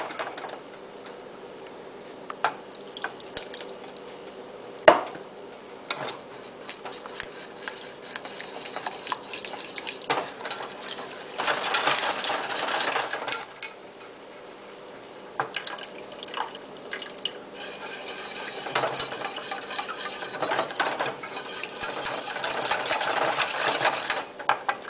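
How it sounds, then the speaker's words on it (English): A whisk works a roux into stock to break up lumps, giving quick light ticking and wet clicking strokes in uneven bursts, close and fairly quiet. "you want to just keep whisking until all those lumps are gone"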